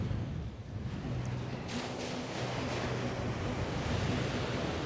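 Steady wind blowing across a beach by the sea near Tarifa, a broad continuous rush with faint surf underneath, heard alone without talk.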